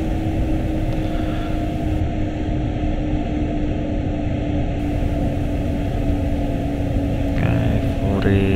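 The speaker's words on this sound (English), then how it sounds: "so let's get a bit of braking in here" A BR 146.2 electric locomotive in Train Sim World 2020 brakes on the move, a steady broadband rumble and rail roar continuing throughout, with a faint hiss band midway and brief squealing tones near the end.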